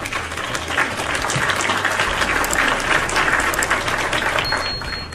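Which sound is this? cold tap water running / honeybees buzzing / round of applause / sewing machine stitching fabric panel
round of applause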